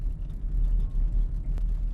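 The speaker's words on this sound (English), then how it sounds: "I don't like the sound of cars passing by us when there's literally no car driving beside us." Engine and road rumble of a car driving in a video game, with a faint passing-vehicle whoosh layered over a steady low drone, moderately loud and continuous for about two seconds without speech.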